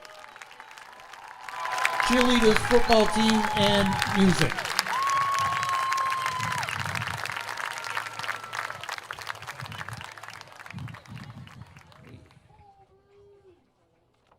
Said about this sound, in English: one more round of applause, please, for our graduating seniors